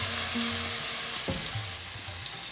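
Tomatoes frying with salt in a pan give a steady, close sizzle with low stirring scrapes and one sharper clatter midway. No voices.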